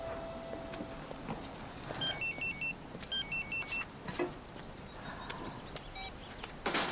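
Incoming-call ringtone on a mobile phone in a domestic scene, a short repeating electronic melody of bright beeping tones that plays in several bursts over faint room noise.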